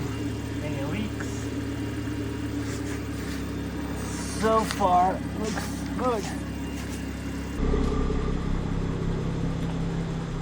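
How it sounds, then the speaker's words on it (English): A BMW 340i with the B58 engine idles after an oil change, a low steady hum in the background while someone talks over it. "Okay, the car is running."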